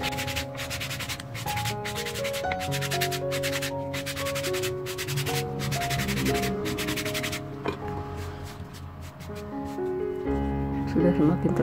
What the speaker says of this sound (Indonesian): Diamplas terus dengan amplas kasar